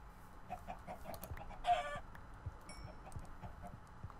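Chickens in the video game Minecraft cluck in soft, scattered calls over a low, steady background, with one brighter squawk near the middle.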